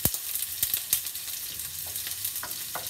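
Onions fry in a pan for a turnip and potato curry, a soft continuous sizzle broken by several sharp stirring clicks and scrapes, close and fairly quiet.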